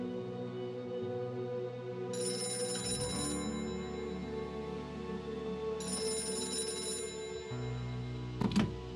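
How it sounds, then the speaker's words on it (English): A telephone rings in the video game Gray Matter, two long electronic trills a few seconds apart over a low ambient hum, ending with a short clunk as the receiver is picked up. "That phone is about to ring."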